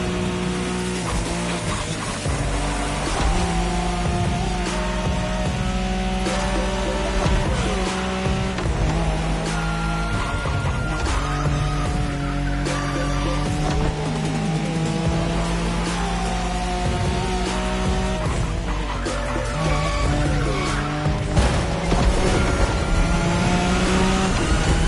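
A Nissan Skyline race car in The Crew Motorfest roars through a race, engine droning and shifting pitch with repeated tire squeals and skids, loud and continuous for the whole stretch with no talk.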